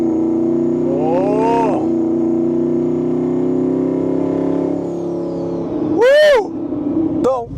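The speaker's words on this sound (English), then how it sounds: "Hopefully you guys can hear this turbos from inside." Inside the cab of a turbocharged 1550 wheel-horsepower Shelby F-150 pickup, a steady engine drone hums with a thin, high turbo whistle that slowly falls in pitch, along with a few brief chirping sounds.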